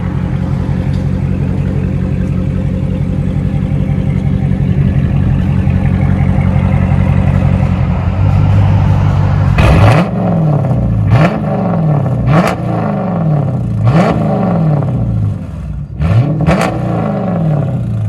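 A 2015 Dodge Charger R/T with a 5.7L HEMI V8 and straight-pipe dual exhaust idles with a deep burbling rumble, then fires off a string of sharp, loud revs that rise and fall in quick repeated bursts, close by.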